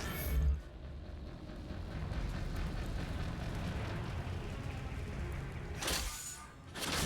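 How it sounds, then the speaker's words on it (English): Neutron bombardment in Mass Effect 3 rolls on as a continuous heavy, rumbling roar of distant explosions, with a sharp burst near the start and another bright crackling surge toward the end. "Neutron bombardment underway."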